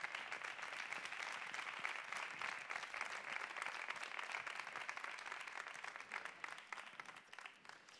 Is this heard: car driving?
no